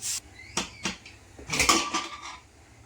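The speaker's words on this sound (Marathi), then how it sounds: "आता आपण कुकर उघडून पाहूया" A pressure cooker lid is worked open after cooking khichdi pulao in a home kitchen, giving a few sharp metallic clacks followed by a brief rattling scrape and clatter, close and clear.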